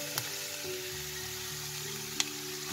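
Minced meat frying with onion in a pan, a quiet, steady sizzle with a few faint clicks of stirring over a low background hum.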